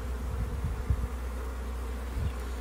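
Honeybees move quickly over a hive frame, giving a continuous close, dense buzzing drone with small fluctuations and no voices.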